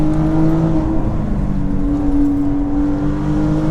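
A BMW M2 with a twin-scroll turbocharged engine accelerates hard, a loud, close, sustained engine roar with a steady rising tone and turbo whir, heard from inside the car with no talk.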